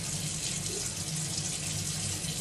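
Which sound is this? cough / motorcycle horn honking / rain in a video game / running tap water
running tap water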